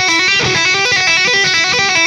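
Clear unmuted electric guitar notes are tapped in a quick, even flurry of legato runs that sound bright and sustained, close and continuous with no voices.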